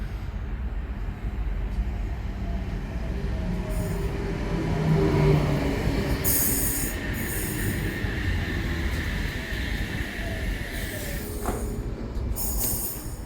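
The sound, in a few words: Sydney Trains Oscar H-set train at station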